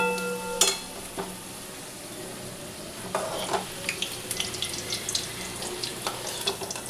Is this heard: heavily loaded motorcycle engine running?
no